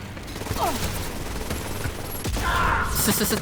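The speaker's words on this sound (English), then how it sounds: "so you can grab his bullets and shoot him back" Gunfire in the video game Wolfenstein: Youngblood, bursts of rapid shots and mechanical clatter mixed with game effects, fairly loud and continuous, with some voices faintly present.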